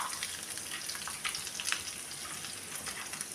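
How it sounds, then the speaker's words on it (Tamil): Sliced onion fries in oil with green chilli, ginger and garlic for a Madurai-style chutney, a soft close crackling sizzle with fine popping spatters, quiet and continuous, without talk. "இப்போ இதில் வெங்காயம் சேர்த்துக்கலாங்க,"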